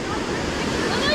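A waterfall at Cloudlake Canyon Park, heard as a loud, continuous broadband roar of falling water that fills the whole moment without any break.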